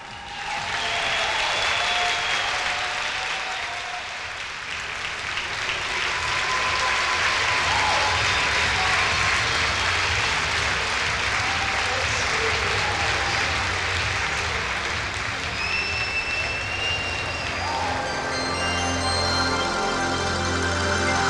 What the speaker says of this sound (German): Ich bitte um Ihren Applaus für den Gesamtsieger der Junioren